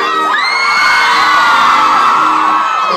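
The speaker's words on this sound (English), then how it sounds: "Feels good when you yell." Concert crowd at an acoustic pop-punk show cheering, whooping and yelling loudly and continuously, a dense wall of voices with high shrieks rising right from the start and holding steady.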